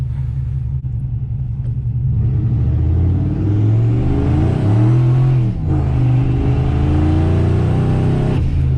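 A single-turbo Ford F-150 sleeper truck pulls hard on a street in cold air, its engine roaring loud and steady as revs climb, dip briefly and surge again with a deep droning rumble throughout.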